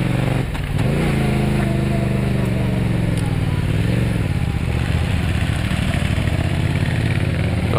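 A motorcycle engine drones steadily at close range on the Penser Joch mountain pass road, its pitch dipping and rising as the bike slows and picks up speed again.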